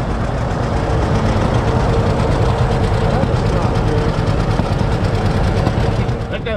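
Farm tractor engine at an equipment auction, running loud and steady with a low, rumbling idle and knocking vibration that fills the whole stretch, with no clear separate start-up burst.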